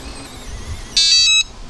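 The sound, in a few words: RVLock keyless RV lock beeping when locked by key fob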